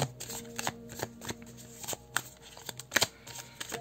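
A deck of witch-themed oracle cards is shuffled and handled close up, giving a quick irregular run of soft riffling slaps and flicks, fairly quiet and with no voices.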